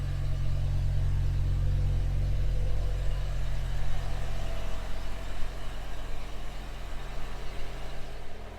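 BMW E60 M5 with its V10 running, a steady deep rumbling drone at close range, continuous and unbroken, with no voices over it.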